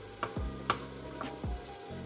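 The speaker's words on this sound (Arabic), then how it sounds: "وهاد السطيكات غادي تقلى" Steaks fry in a pan with a steady soft sizzle, broken by a few sharp utensil clicks and low thuds against the pan, close and quiet with no voices.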